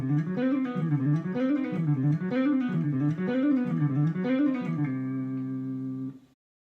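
A guitar runs fast Lydian-scale sextuplets at full tempo in a Debussy-like style, with rippling, evenly repeating note patterns that end on a sustained ringing chord before cutting off.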